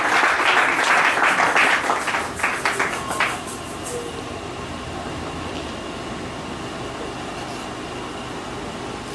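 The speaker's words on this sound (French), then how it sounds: "Applaudissons le Seigneur pendant qu'il va encore." A church congregation applauds, with dense clapping for about three seconds that quickly fades away into a steady low background hum.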